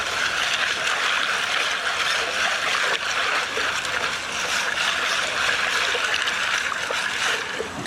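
A 1/2 inch gold pan classifying screen shaken with water and dirt makes a loud, continuous rattling wash of grit and splashing water, steady throughout with no voices.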